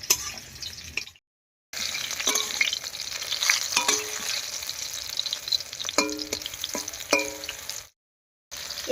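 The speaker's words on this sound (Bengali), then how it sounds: "এবারে উল্টে পাল্টে হালকা লাল করে ভেজে নেব।" Ridge gourd pieces fry in hot oil with a steady, loud sizzle and crackle as they are turned. Occasional clinks of a utensil against the pan are heard, and the sound cuts out briefly twice.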